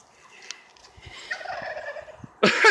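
Wild turkeys gobble in a few scattered calls at moderate distance, ending in a loud, dense burst of close gobbling.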